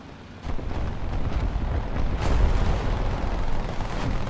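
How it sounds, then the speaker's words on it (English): A missile launch in the video game War Thunder: a sudden loud rushing roar that bursts in and sustains with a rumbling, hissing blast, swelling briefly and then holding steady. "I can hear the missile launches, I just can't see them."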